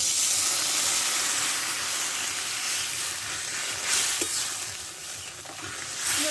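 Hot water hits a pan of frying ground spice paste with potatoes for a Bengali fish curry, making a broad steady hissing sizzle that swells briefly near the end, no talking.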